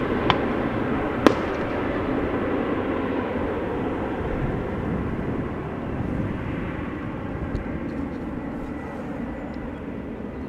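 Fireworks going off around Amsterdam Schiphol airport on New Year's Eve: a couple of sharp, distant bangs, one louder crack near the start, over a steady broad rumble of aircraft and wind noise.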